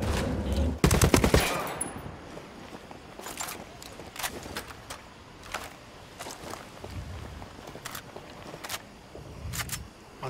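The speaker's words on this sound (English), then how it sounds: "Unsuppressed weapons." Unsuppressed weapon fire in a video game: a loud burst of rapid automatic shots early on, then scattered single and double gunshots, some near and some more distant, over quiet ambient background.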